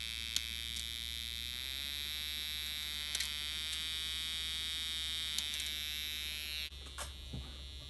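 Snap Circuits electronic tone from a light-controlled circuit with a phototransistor, a steady buzzing electronic drone that shifts pitch in small steps as light changes, constant and close, ending with a drop and a few soft clicks.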